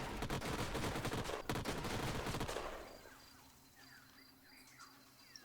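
A unit in Age of Wonders: Planetfall fires its gun, a rapid, loud volley of gunshots for about two and a half seconds that cuts off into quiet game ambience.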